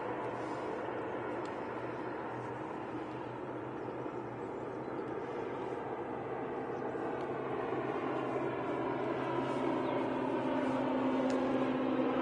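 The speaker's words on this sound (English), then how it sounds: "Once this departs, you can watch the ATR depart." An ATR turboprop aircraft departing at Manchester Airport, a steady broadband turboprop drone that builds slightly in loudness, with a tonal whine emerging near the end and no speech.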